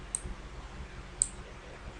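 A computer mouse clicking while text is formatted in MS Word: two crisp, isolated clicks about a second apart, close and clear over a quiet background.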